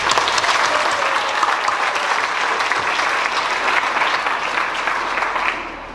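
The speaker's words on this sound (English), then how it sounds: "let's give a round of applause to the 7th grade finalists." A school audience gives a loud round of applause for seventh-grade speech finalists, the dense clapping carrying on strongly for about six seconds before it begins to fade at the end.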